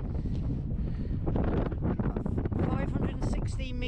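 Strong wind buffets the microphone on a misty hilltop, the highest point of the Long Mynd, as a steady loud roar and rumble; a person talks intermittently over it.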